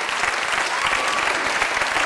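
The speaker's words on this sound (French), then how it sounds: "Vous pouvez l'applaudir" A dense, steady burst of audience applause fills the room for Philippe at a ceremony, loud and continuous with many hands clapping at once and a faint crowd murmur beneath.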